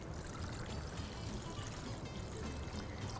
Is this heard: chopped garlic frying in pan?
no